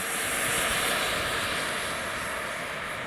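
A Yak-130 jet aircraft flying on a cold, windy morning, heard as a steady, loud, broadband engine roar with a whistling high tone that holds for the whole stretch, gusts of wind mixed in.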